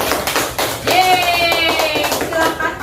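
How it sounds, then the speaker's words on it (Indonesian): A classroom of children claps together in a burst of quick, overlapping hand claps, with young voices calling out and singing over the applause. "Kita tepuk tangan dulu."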